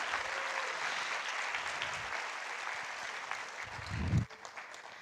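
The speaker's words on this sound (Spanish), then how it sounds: "Un aplauso para Javier." Conference audience applauding in a steady, moderately distant wash that fades out near the end, followed by a brief low thump.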